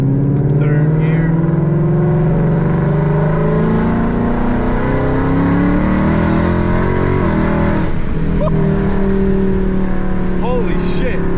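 A Ford Mustang fitted with longtube headers and a Borla ATAK exhaust accelerates hard in third gear, its loud, deep engine note climbing steadily through the run with a brief shift dip, while a person talks excitedly over it.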